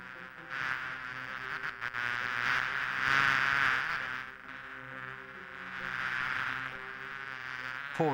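Bees buzz in the point-and-click game Discworld II, a sustained insect drone that swells and fades in overlapping waves over several seconds, moderately loud with no talk over it.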